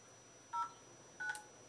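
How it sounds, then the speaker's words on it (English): Telephone keypad dialing tones from a call placed to a lawyer, two short beeps spaced apart, clear but fairly quiet over a faint steady background hum. "Let's ring him up."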